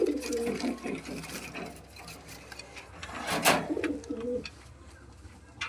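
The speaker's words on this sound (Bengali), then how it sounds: "এই হচ্ছে নর কবুতরটা" A male pigeon of a 30-generation fancy breed coos close by in repeated low, throaty phrases, with faint rustling in the background.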